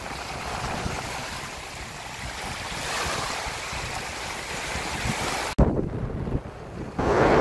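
Surf washes continuously on a beach in Lobo, Batangas, Philippines, with strong wind buffeting the microphone, ending in a sharp knock and a brief quiet before the rush returns.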